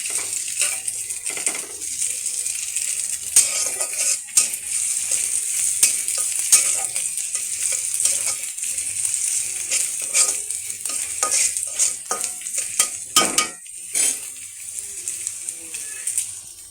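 Sausages, boiled first, fry steadily in a pan for a children's snack of chicken balls and noodles, a continuous bright sizzle with occasional stirring clinks and scrapes throughout, close and fairly loud with no talking.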